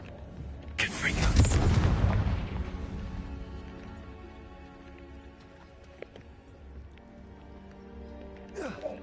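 Confringo fire spell blasting in Hogwarts Legacy, one loud booming explosion that rumbles and decays over a few seconds, followed by quieter game ambience.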